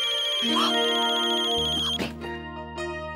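A melodic phone ringtone plays loudly and continuously, layered chiming tones shifting as the tune moves along.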